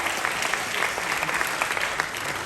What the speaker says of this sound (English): This next one won't get as big of an applause